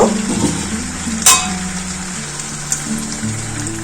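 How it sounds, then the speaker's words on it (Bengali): Water poured into a pan of potatoes fried with spices for aloo dum, a brief splash followed by a steady close sizzle with faint stirring and pan scrapes. "অল্প করে জল দেব"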